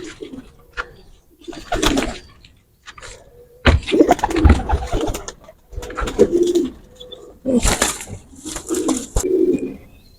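Young Teddy and Golden pigeon chicks coo in repeated soft bursts with short pauses between, close by, joined by faint chirps and no talk.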